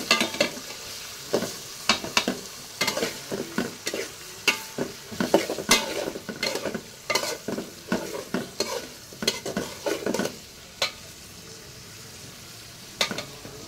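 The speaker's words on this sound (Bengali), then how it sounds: "চিংড়ি মাছ আর এগুলো একসাথে ভেজে দেবো" Shrimp fries together with onion and garlic in a home kitchen pan, a steady sizzle punctuated by a rhythmic series of loud spatula clacks and scrapes as the mixture is stirred.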